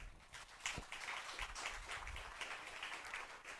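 Church congregation applauding during a Catholic preaching service, a continuous wash of clapping from many hands throughout, with no voices heard over it.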